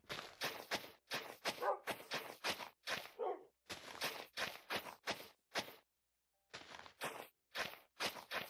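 Minecraft dogs, rapid bursts of short barks and yips in quick succession with a brief pause, clear and close with no talking.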